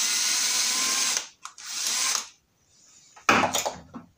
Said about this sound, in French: Pour enlever cette plaque, on dévisse là.